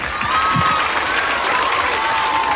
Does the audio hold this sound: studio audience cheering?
yes